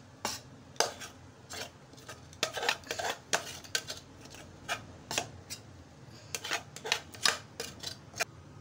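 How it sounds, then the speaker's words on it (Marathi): A spoon scrapes and knocks repeatedly against a metal pot while cooked rice flour dough is scooped out into a plate, giving sharp irregular clinks and scrapes in bursts, with no talk. "आता मी लगेच एका परातीत उकड काढून घेते"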